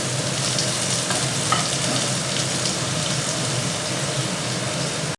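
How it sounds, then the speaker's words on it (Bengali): Chopped onions fry in hot oil with a steady, loud, continuous sizzle and crackle throughout. The pan is for a Bengali fig curry, and the sizzle cuts off abruptly at the end. No one speaks. "এবার পেঁয়াজ কুচিগুলো আমি ভেজে নেব"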